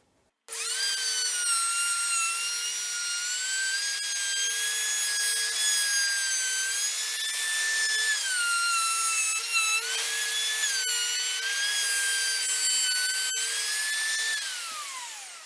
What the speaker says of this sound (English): Let's cut a dado.